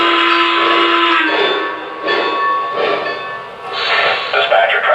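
An American Flyer Y3 model locomotive's sound system sounds its whistle: sustained, steady harmonic whistle tones in several bursts with brief breaks between them, fairly loud and close.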